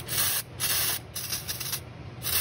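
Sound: spraying brake cleaner from a can

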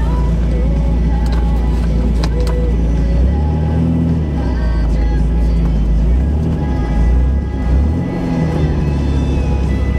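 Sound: MG car driving off on a road

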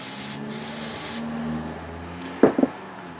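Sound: spraying silicone into a bag

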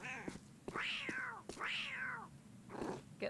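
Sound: cat meowing in video game Postal 4

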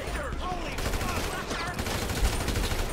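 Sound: gunfire in Grand Theft Auto 5 video game

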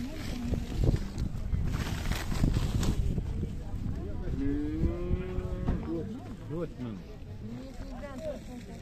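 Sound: livestock market with cattle

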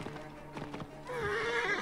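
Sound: horse neighing in Assassin's Creed Origins video game

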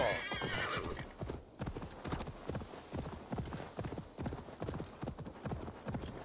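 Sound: horse galloping and neighing in Assassin's Creed Valhalla video game

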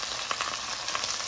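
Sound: chicken frying and browning in a pan

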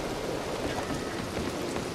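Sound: rain falling in video game Red Dead Redemption 2 Online

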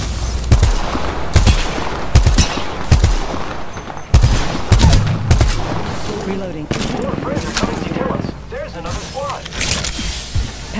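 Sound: gunfire in a video game

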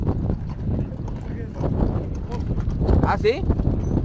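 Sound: horse hooves clip-clop

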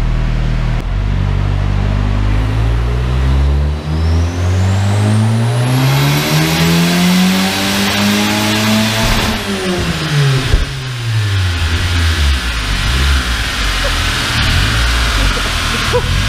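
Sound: turbocharged Ford Zetec engine revving on a dyno run

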